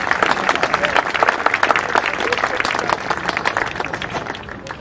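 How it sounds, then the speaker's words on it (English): Wedding reception guests give a big round of applause, dense sustained clapping from a full room that stays strong for about five seconds before easing slightly at the end. "Can I ask you to give yourself a big round of applause?"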